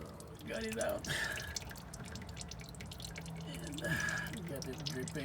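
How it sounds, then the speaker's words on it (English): Transmission fluid dripping from the drain plug of a Volvo XC90, faint irregular drips and trickles into a pan amid garage background noise. "Got it dripping."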